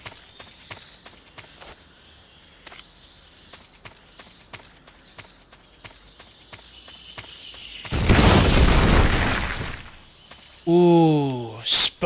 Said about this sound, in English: We'll at least blow up the chopper.